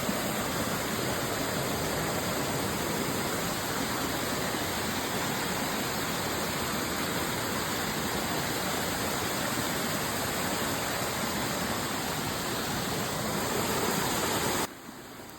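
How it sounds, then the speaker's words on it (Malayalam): Water pours steadily beside a huge dark cave at the edge of a mountain during the rainy season: a dense, unbroken near roar that continues alone with no voices and drops away abruptly at the very end. "എവിടെ തിരിഞ്ഞാലും നമുക്കിങ്ങനെ വെള്ളം വീഴുന്ന ഒച്ച മാത്രമേ കേൾക്കാനൊക്കെ ഉള്ളൂ"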